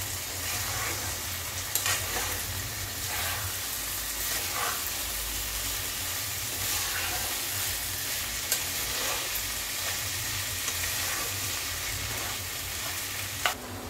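Chana paneer masala sautéing in a pan: a steady close sizzle with occasional stirring scrapes and light clinks, no voices.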